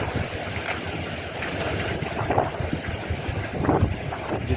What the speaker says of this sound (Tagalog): Medyo lumalakas na rin ang hangin